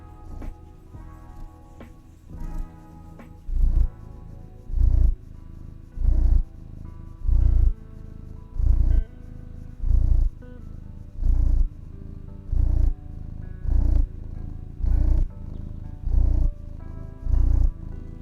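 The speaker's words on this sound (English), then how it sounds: "Free purrs." A cat purrs close up, loud and steady in a slow rhythmic pulse of about fourteen breaths, with no other sound around it.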